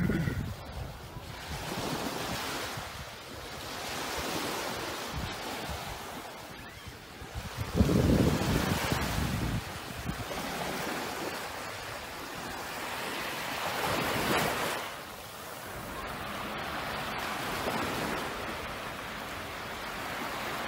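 Sea waves wash onto a beach at Mersin in a steady rolling surge with periodic swells, mixed with gusty wind noise buffeting the microphone and no talking.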